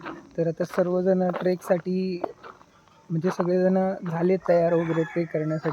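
Roosters crow repeatedly at a trekking campsite on the morning of the Gokundi trek, loud, drawn-out calls in two bursts, while someone talks over them.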